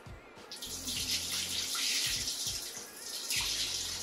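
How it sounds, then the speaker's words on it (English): Dirty water is poured off oxtail and fresh water splashes over the meat in a sink, a steady rushing gush with a few sloshing surges and no talk. "I'm gonna pour this dirty water off and then wash it with another set of water"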